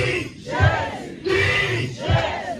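A church congregation at a Sunday worship service cheers and shouts acclaiming the Lord, loud collective bursts of voices rising and falling in about three waves, close and full.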